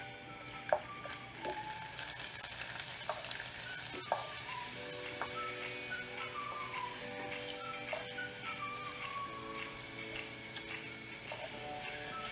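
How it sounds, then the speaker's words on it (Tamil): Steady sizzling of papadum frying in hot oil in a pan, with occasional soft ticks and clinks over a continuous bubbling hiss. "இப்போ அப்பளம் பொரிக்கணும், அதனால் ஒரு பேனை ஹீட் பண்ணி அதில் எண்ணெய் ஊற்றி வச்சுருக்கேன்"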